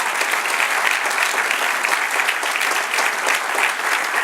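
A church congregation applauds during a Spanish-language service, a dense, steady burst of many hands clapping for several seconds without pause.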